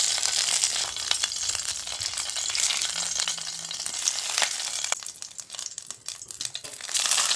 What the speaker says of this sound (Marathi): आणि तेलाच्या वरती हळदीची पानं ही मांडून घेते.